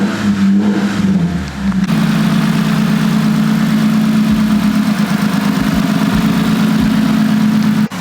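A Lexus IS350 engine idles steadily in limp mode, a loud, close, continuous hum with a low drone, after a brief rougher moment at the start.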